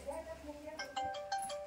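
A mobile phone ringtone plays a short melodic run of bright tones at moderate loudness, with speech in the background.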